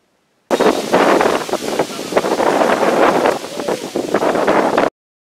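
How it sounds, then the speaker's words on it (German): Wind buffets the microphone while cycling along rural roads in Vietnam, a steady loud rushing roar with gusty surges lasting several seconds, with no voices. "Es wird zunehmend windiger."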